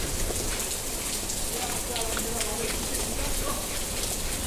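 Steady rain from Cyclone Remal pours down over Dhaka streets in a continuous broadband hiss, close and unbroken throughout, with faint voices murmuring underneath.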